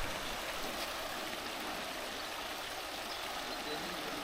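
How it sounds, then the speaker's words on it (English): Water leaks through the side gates of a canal lock as it fills along the Great Glen Way, a steady, even rushing hiss heard at moderate distance with no breaks. "Leaky lock sides here. I don't know if that's meant to leak through here."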